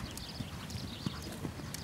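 Horse cantering in a dressage arena, soft rhythmic hoof beats thudding on the footing, faint and distant with no talk.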